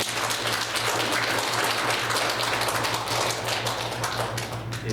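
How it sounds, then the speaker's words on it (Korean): A congregation in a Korean church claps together in a sustained, crisp, fairly even burst of many hands, steady throughout with a low hum underneath. "우리 모두를 위해서 박수 한번 하도록 하겠습니다"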